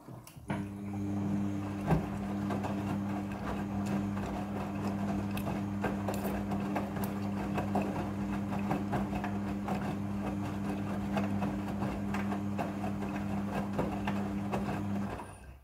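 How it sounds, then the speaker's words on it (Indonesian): Steady mechanical whirring and rhythmic droning of a Midea front-loading washing machine on its second spin cycle, running continuously with a low hum and occasional faint knocks. "Kemudian ini adalah proses pemerasan cucian yang kedua."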